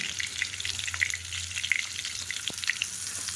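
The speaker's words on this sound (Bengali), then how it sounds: "তাহলে আলুগুলো ভেজে ভালো করে একটু ভেজে বেশি ভাজবো না" Potatoes frying in a pan, a fine crackling sizzle with scattered pops and a low hum underneath, close and steady, with one soft knock partway through.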